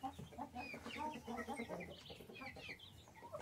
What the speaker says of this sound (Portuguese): tem muita galinha aqui